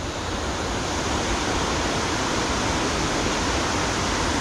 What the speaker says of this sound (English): You hear the rush of the water now.